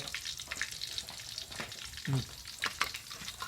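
Mackerel sizzles quietly in a frying pan, a soft steady crackle of hot oil with a few clinks and scrapes of a utensil stirring.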